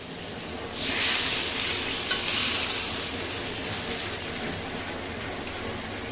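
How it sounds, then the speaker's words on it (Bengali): Sugar stirred into a simmering spiced curry in a pan, a steady bubbling sizzle with soft scraping strokes, close and continuous, no talking. "চিনিটা একটু চালিয়ে দিই।"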